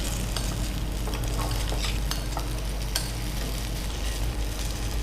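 Cubes of paneer for paneer tikka fry in a hot pan with a steady, loud sizzle and crackle, with a few sharp spatters popping out along the way.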